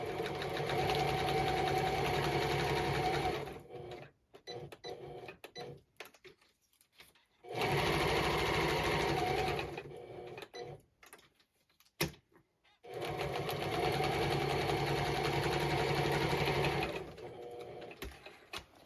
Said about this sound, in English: I'm just gonna turn to my sewing machine and I'm gonna quick sew it